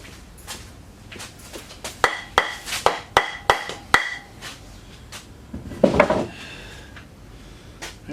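Metal wrench working on an outboard engine stand, a series of about six sharp metallic taps and clanks in quick succession, close, then a brief scraping clatter and quieter handling noises.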